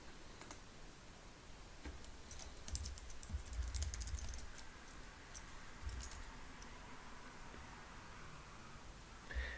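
Faint, quick keyboard typing with soft irregular clicks, in bursts over a quiet hiss.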